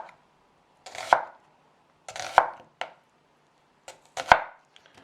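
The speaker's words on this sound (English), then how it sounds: "So once you've got all your onions chopped up," A knife slicing red onions thinly on a board, four or five crisp cutting strokes, each a short crunch ending in a sharp tap, spaced about a second apart with silence between, close up and without speech.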